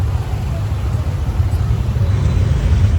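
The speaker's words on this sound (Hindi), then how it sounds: "इतना ट्रैफिक हो गया है कि चला भी नहीं जा रहा है।" Heavy New Year traffic crawls along a jammed road in Delhi, giving a dense, continuous low rumble of idling and creeping engines nearby, with no single vehicle standing out.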